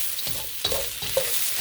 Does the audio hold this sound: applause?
no